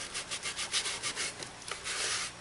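Wood turning on a Nova 16/24 lathe cuts into dry, somewhat brittle redbud, giving a faint, rhythmic scraping hiss that pulses steadily with no voices.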